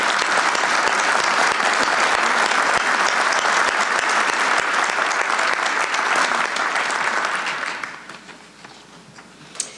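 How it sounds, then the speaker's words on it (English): At the Concord Town Meeting, an audience gives a dense, sustained round of applause for about eight seconds before it tapers off quickly into near quiet. "Please join me in a round of applause for that."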